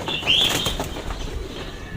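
A racing pigeon bursts into flight with a quick flurry of flapping wings, loud and close, followed by fainter rustling and handling noise.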